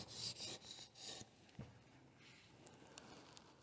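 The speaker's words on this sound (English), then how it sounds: "You want to hold that angle steady and just kind of rock the blade across the edge to get the tip" A HoneyBadger knife blade being sharpened and reprofiled, rocked across the edge toward the tip, giving close, quiet scraping and rasping strokes in a few quick bursts, then fading to faint rubbing.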